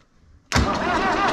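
A Zetor 6718 tractor engine suddenly turns over on its starter after a short quiet moment, settling into a loud, steady churning cranking sound that continues to the end.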